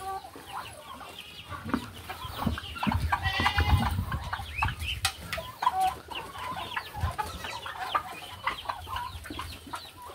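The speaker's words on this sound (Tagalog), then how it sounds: "ito po yung ating mga pabo, mga kambing" A busy farmyard of turkeys clucking and gobbling, with occasional goat bleats mixed in, fairly close and continuous.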